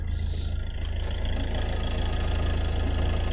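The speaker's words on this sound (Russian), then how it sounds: "Сейчас завожу мотор." A car engine idles after starting, producing a steady low rumbling hum with even pulsing throughout.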